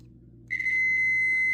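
Multimeter continuity beep as the two probes touch: a single steady, clear electronic tone starts abruptly midway and holds to the end over a low background hum.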